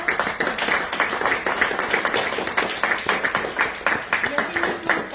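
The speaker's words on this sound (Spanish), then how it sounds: "lo recibimos con fuerte voto de aplauso" An audience claps to welcome a guest at a cultural evening at an arts institute in Huancané, Puno, a steady patter of many hands heard close. A voice speaks over the clapping.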